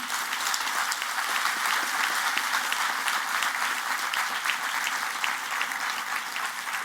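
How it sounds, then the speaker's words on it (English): Sustained applause from an audience at a school's golden jubilee celebration for past and present staff, a dense even clapping crowd throughout with no voices over it. "big round of applause to all of you."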